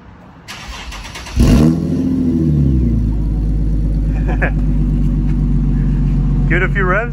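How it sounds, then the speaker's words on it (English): An Infiniti G37 with a Motordyne exhaust starts with a loud burst and settles into a deep, rumbling idle, its exhaust growling with brief revs near the end. "Wait till you hear the exhaust still."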